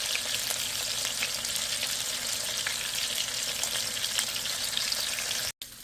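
Koi fish sizzle steadily in hot oil in a pan, a continuous close crackle with small pops, the frying cut off abruptly near the end.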